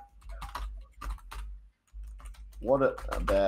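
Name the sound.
typing on a computer keyboard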